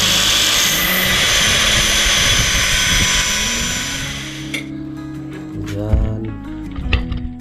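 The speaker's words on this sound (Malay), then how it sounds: "Oke, brake ini terlalu panjang tadi guys, jadi kita kena potong sedikit lah" A motorbike brake lever being cut to shorten it, for a three-wheeled motorbike build, gives a loud, steady grinding whine for about four and a half seconds. It then stops abruptly, followed by quieter clicks and a voice talking.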